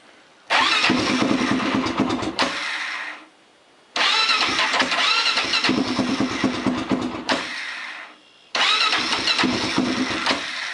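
A Honda 400EX ATV engine fresh from a starter clutch replacement cranks and fires three times, each start running a couple of seconds of loud, close, rough idle before cutting off, with short quiet gaps between.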